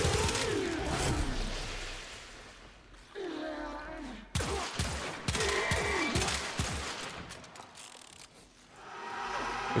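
The Vasto Incarnon pistol fires in Warframe in rapid bursts of sharp, punchy shots layered over mechanical clacks and game effects, with brief pauses between volleys.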